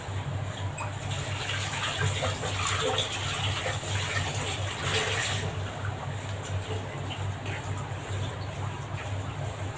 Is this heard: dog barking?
no